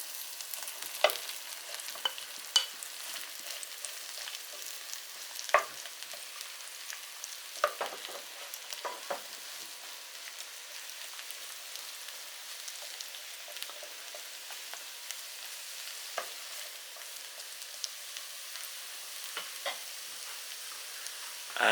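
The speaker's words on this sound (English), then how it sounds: "when the onion just starts to cook and you can hear the sizzle" A steady, quiet sizzle of onions and mushrooms frying in a pan for lamb stew, with occasional sharper crackles and stirring scrapes throughout.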